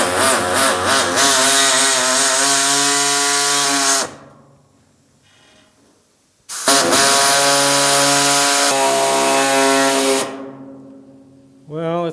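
A power saw with a tiny blade whines loudly while cutting in the door gap of a GTO restomod, running in two long strained bursts separated by a quiet pause.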